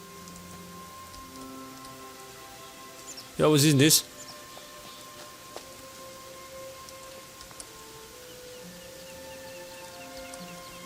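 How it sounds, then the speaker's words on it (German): Steady rain patters throughout in the video game Gothic 3, with a brief spoken question partway through. "Und soeben gibt es einen Regenguss schön. Es regnet."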